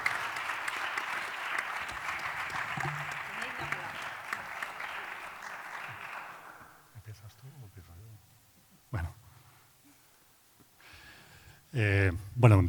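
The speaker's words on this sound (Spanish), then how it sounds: "Un fuerte aplauso" An audience at a talk on social and political issues in Central America applauds, a dense burst of clapping that lasts several seconds and then fades out, followed by a few faint knocks and brief speech.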